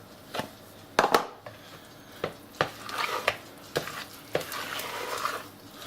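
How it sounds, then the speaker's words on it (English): A spoon stirring carrot cake batter with grated carrots in a bowl, giving a series of soft scraping and knocking strokes at an irregular rhythm, close by and moderately quiet, with no talking. "Let's give that a stir."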